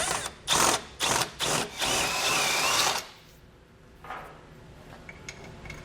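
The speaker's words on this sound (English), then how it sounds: "I'm going to use a step bit, but a regular drill bit will do the trick as well" A step drill bit bores through bare metal on a 2019 Cadillac XTS during a trailer hitch install, in several short loud bursts, then one long whine, before the drill stops.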